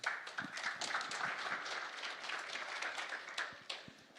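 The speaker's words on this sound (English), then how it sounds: "Applause for the person asking the questions." An audience at a life sciences investment summit claps for the person asking questions, a fairly quiet, somewhat sparse patter of hands with a few sharper individual claps standing out.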